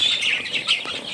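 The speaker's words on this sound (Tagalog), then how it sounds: "masarap pakinggan pag may narinig akong huni ng manok" Rhode Island Red chickens clucking close by, a steady stream of short, bright calls with no voices over them.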